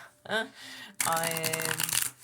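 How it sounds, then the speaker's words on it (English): A deck of cards riffles in a quick flurry of soft flutters, close up, after a brief moment of quieter handling. "Sorry, that was a crappy shuffle"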